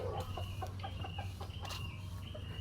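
Chickens cluck in a series of short, near calls over a steady low background hum, with no talking.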